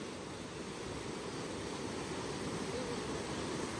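A monsoon-swollen river rushing under heavy water pressure, a steady broadband roar with no breaks, loud and close, with no talking.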